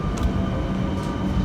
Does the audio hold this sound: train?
yes